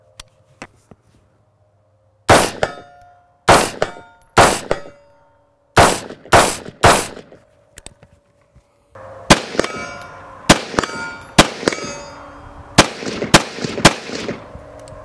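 AR rifle in 5.56 with a standard muzzle device firing loud, sharp shots outdoors, first in spaced singles and pairs, then a faster run of cracks with ringing tails.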